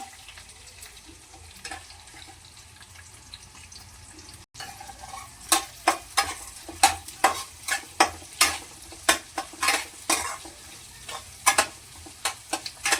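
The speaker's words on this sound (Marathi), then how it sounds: "कांदा लालसर होईपर्यंत फोडणी भाजून घ्यावी।" Onions sizzle steadily in hot oil with peanuts and roasted gram while a spatula scrapes and stirs the pan in quick, repeated strokes, close and fairly loud, as the onions brown for upma seasoning.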